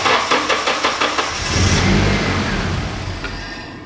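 A Nissan 240SX with all its fuel injectors unplugged cranks with loud rhythmic starter pulses, catches briefly with a rising engine roar, then winds down and dies into quiet.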